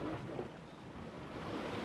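Sea waves washing against a rocky shore at a fishing spot in Turkey, a steady broadband roar of surf with wind, continuous and fairly loud with no clear individual breaks.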